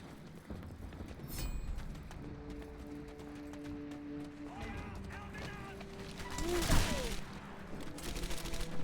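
Medal of Honor Airborne gunshots crack faintly and sporadically amid in-game battle sounds and background talk, with a few sharper reports standing out briefly.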